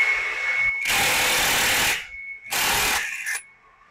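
A socket wrench loosens the bolts on a scooter CVT pulley side during disassembly, giving two loud bursts of rapid mechanical rattling separated by a short pause, with a faint whine between them.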